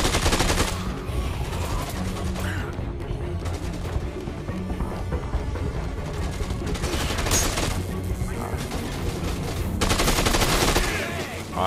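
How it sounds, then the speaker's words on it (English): Sustained gunfire in the zombie action game Dead Rising 2: Off The Record, loud continuous automatic shooting with bursts and booms throughout, no pauses, over a busy game soundscape. "I think I just shot you a couple times by accident"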